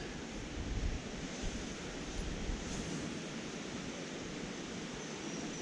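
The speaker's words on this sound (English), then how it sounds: "Wind is not making life easy today." Wind buffets a river bank, a steady, loud roaring rush with gusty swells in the low end, sounding much like pounding surf and covering everything else.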